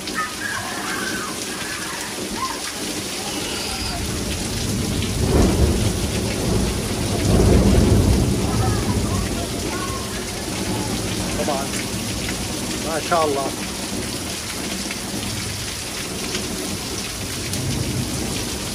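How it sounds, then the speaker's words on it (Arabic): A powerful, unexpected thunderstorm over Windsor, Ontario pours heavy rain onto roofs and surfaces in a steady roar, with deep rolling thunder swelling midway and someone speaking briefly. "نحن هلا بقلب العاصفة، بقلب العاصفة"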